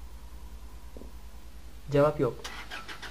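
A car engine in the horror video game Cry of Fear turns over and revs briefly in a couple of short bursts. Someone talks over it, with a low steady hum underneath.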